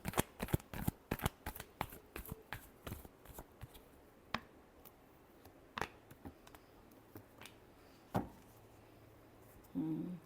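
A deck of cards being shuffled up close: quick riffling bursts crowd the first few seconds, then single sharp riffles and flutters come at sparser intervals in a quiet room.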